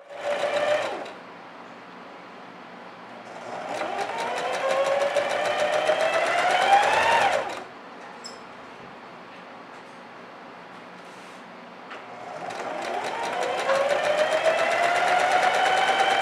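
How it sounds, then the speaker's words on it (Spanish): A sewing machine stitches the side seams of a pleated skirt in loud, close bursts of rapid whirring, with the motor pitch rising and falling, separated by quieter pauses. "para luego realizar costura a máquina en los dos laterales"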